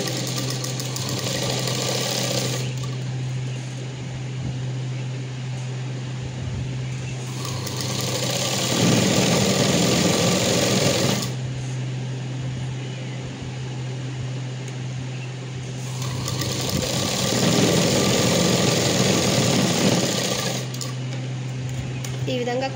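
Domestic sewing machine stitching a short frock, running in long steady mechanical bursts with a constant motor hum across the stretch and two louder passages, no voices.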